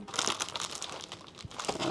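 Packaging of a Final Fantasy 7 Rebirth Collector's Edition, Hong Kong version, crinkles and tears as it is cut open, with quiet close rustling throughout.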